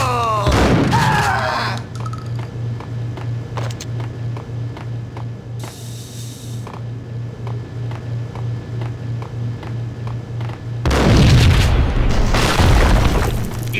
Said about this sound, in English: I thought it was a bomb for sure.